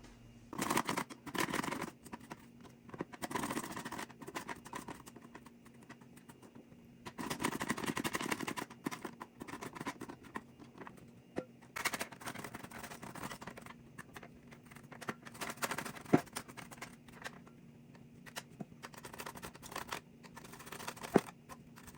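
Cucumbers shredded by hand for a pasteurized winter salad, bursts of rough rasping scrapes in uneven strokes, close and fairly quiet, with short pauses between.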